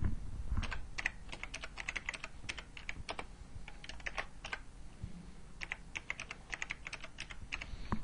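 Computer keyboard typing text, irregular bursts of crisp key clicks at close range, pausing briefly mid-way before resuming, quiet room otherwise.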